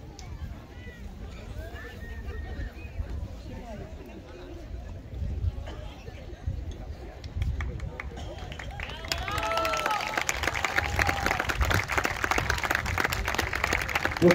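Crowd at an outdoor award ceremony for school marching bands, with speech and movement at first, then scattered clapping that swells into louder sustained applause over the last few seconds.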